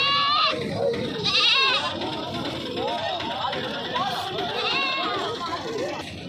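Local young goats and kids bleat repeatedly at a busy goat market in Uluberia, their wavering cries rising over constant crowd chatter and nearby talk.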